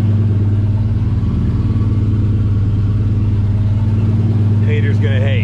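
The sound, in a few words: turbocharged 5.3L GMC Yukon engine idling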